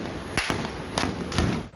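Gunshots ring out during an airport robbery shootout at Viracopos in Campinas, São Paulo: three sharp, somewhat muffled bangs at uneven intervals over a low background rumble.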